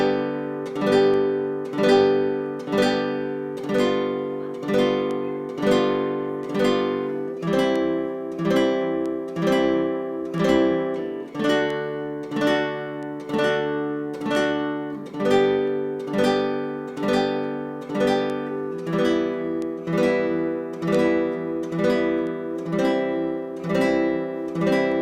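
An acoustic guitar plays a beginner exercise that moves through five easy chords. Steady strummed chords repeat in an even rhythm, changing chord every few seconds, close and moderately loud with no talking.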